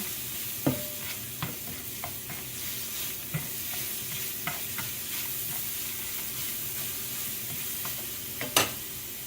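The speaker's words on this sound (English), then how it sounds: "You're going to add your spices and mix them up in there." Spices being stirred into softened onions and garlic in a frying pan, a steady sizzle with scattered scrapes and clinks of the spoon against the pan, close and moderately loud, with no talking.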